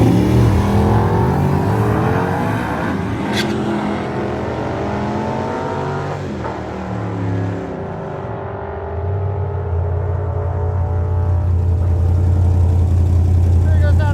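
LS-powered mid-engine Toyota truck on a drag strip at a drag week event, its engine roaring loud and steady through the run, then fading a little before a strong, sustained low drone returns, with voices talking over it.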